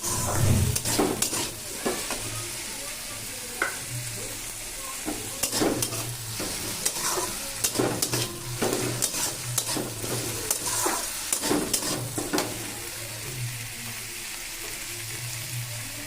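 Onion and tomato fry in a pan and are stirred until the tomato softens: a continuous close sizzle broken by repeated scraping and knocking of a spatula against the pan, with no talking.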